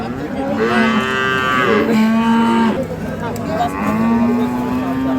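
Dairy cows with calves at a rural cattle market, mooing in three long, loud, close calls, one overlapping another, with crowd murmur beneath.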